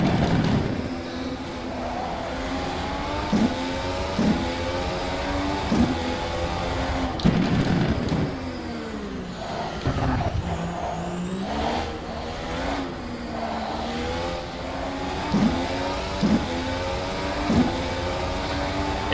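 A car engine drones steadily while driving, a dense low rumble with harmonic whine and periodic bumps and rattles from strong vibrations throughout.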